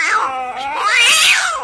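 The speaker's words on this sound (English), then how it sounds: "At 60 seconds, you'll hear the meow of a kitty." A cat meows loudly as a time-up signal on a comedy stage, one drawn-out, wavering call that rises and falls over under two seconds, standing alone with no talk.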